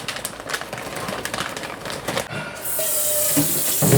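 Tap water runs steadily into a colander to rinse dried hibiscus (sorrel) flowers. It starts after some brief clattering and continues as a loud, even hiss to the end.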